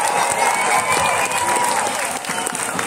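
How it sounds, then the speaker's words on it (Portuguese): A large crowd at a Brazilian election victory speech for a senator in Ceará breaks into loud, sustained clapping and cheering, a dense wash of applause that carries on steadily throughout without a break. "Eu queria pedir aqui a vocês uma forte salva de palmas a todos os irmãos cearenses"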